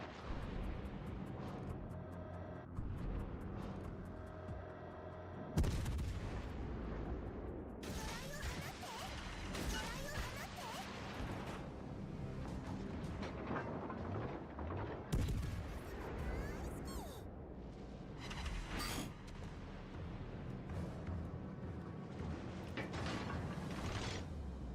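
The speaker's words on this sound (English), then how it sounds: "We're going to see if I can get a broadside salvo in this guy." A warship's broadside salvo fires in World of Warships Legends: sudden heavy gun blasts come at two separate moments, and each is followed by rolling booms, whooshes and rumbling battle noise.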